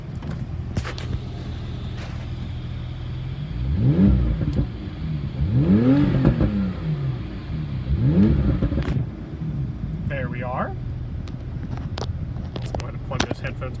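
A 2018 Porsche 911 Carrera 2S Cabriolet with sport exhaust in sport mode revs three times in loud, rising bursts, with a quieter idle between them, wind noise, and someone speaking briefly.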